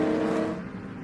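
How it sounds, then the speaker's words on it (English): Trans Am and SVRA race cars roar past a trackside position at Sebring at the green-flag start, a brief loud burst of engine noise that fades as they pull away. "they roar past our commentary position as the green flag waves"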